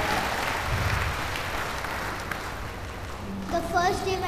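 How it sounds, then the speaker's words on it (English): An audience at a youth testimony gathering claps for a young speaker from Mumbai, a steady wash of applause that fades toward the end as a voice begins speaking. "give the Mumbai Indian a big clap"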